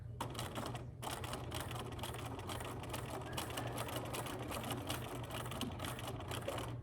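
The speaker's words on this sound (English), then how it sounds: "I'm gonna turn and I'm gonna sew to this corner over here" A sewing machine stitches a fabric-covered dog leash, running with a steady fast mechanical whirr and rapid needle clatter after a brief pause near the start. The sound is close and fairly quiet, with no talking.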